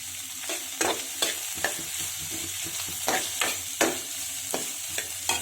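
Onions, green chillies and carrot stir-frying in a curry-leaf tempering, a constant sizzle punctuated by regular scraping clatters of a spoon against the pan.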